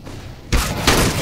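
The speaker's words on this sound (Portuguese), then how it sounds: "flashbang." A flashbang grenade detonating in Counter-Strike: Global Offensive, a sudden loud broadband blast followed by a second burst, close and harsh, with no talking.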